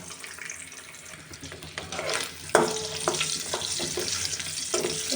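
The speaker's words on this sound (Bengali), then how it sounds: "আমি ডিমটা একটু সুন্দর করে ভেজে নেব।" An egg fries in oil in a pan for a cauliflower dish, a steady close sizzle that grows louder partway through, with a sharp crackle and some faint scraping clinks.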